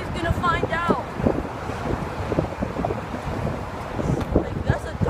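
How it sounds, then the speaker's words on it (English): Strong outdoor wind buffets the microphone with continuous low rumbling gusts that rise and fall, while a voice briefly speaks near the start. "Yo, it's so windy."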